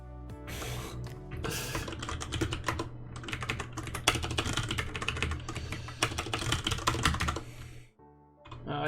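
Dense, rapid keystrokes on a computer keyboard while coding, a close, clattering run of typing lasting several seconds before it stops abruptly near the end.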